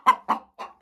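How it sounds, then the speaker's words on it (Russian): A hen laying in a nest gives three close, clear clucks in a steady, halting rhythm, with silent gaps between each call. "там у нас несется курица"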